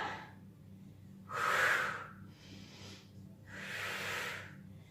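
Loud, forceful breaths during a cardio-strength circuit exercise, one long exhale followed by a softer inhale and then another long exhale, close to the mic against a faint background hum.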